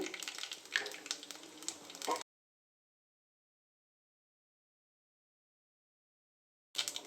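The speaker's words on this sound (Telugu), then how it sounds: "తాలింపు గింజలు వేసుకుందాము" Tempering seeds sizzle and crackle as they fry in hot oil in a pan, a steady close frying hiss with small pops that cuts off abruptly and returns briefly at the end.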